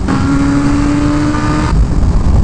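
A brand new BMW M1000RR superbike engine roars loud and steady at high revs against the limiter near 120 km/h, then the pitch cuts and drops as the tone changes.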